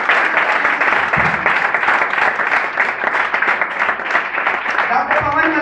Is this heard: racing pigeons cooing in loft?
no